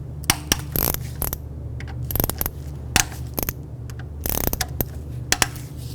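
A 10mm socket ratchet breaks loose the mounting screws of a variable valve timing solenoid on a 2003-2007 Nissan Murano, giving clusters of sharp metallic clicks and pawl ratcheting, close up, separated by short pauses.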